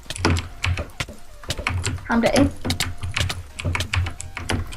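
Computer keyboard keys clack in quick, uneven bursts during a Badlion PvP gaming session, mixed with mouse-like clicks. The typing runs close and moderately loud under continuous casual talk from a player.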